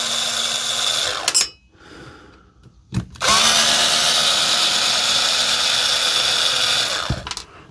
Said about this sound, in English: We'll get the screws out first